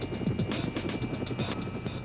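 A police helicopter hovers overhead during a stolen vehicle chase, its rotor thumping in a steady, continuous pulse throughout.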